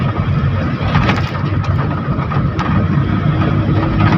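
A loud, steady mechanical rumble of a passing metro rail train, continuous and close, with a constant droning roar and no voices.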